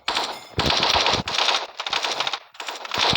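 A suppressed gun in a video game fires in rapid automatic bursts, four or five dense rattling volleys separated by short gaps, loud and close with no talking.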